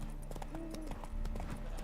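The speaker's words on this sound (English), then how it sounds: "Spooking my horse." Hooves of Roach, Geralt's horse in The Witcher 3, clop in an uneven, hurried rhythm close by, mixed with low tonal game music and a few faint knocks.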